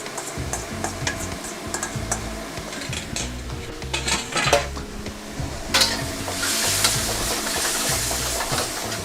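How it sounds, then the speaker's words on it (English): Miso paste mix is stirred and worked into pork in a pan, with repeated scraping and clinking of a utensil against the cookware over a soft sizzle, close up and without speech. "Next up going in is our miso paste mix."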